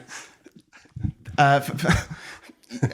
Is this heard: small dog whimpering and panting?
yes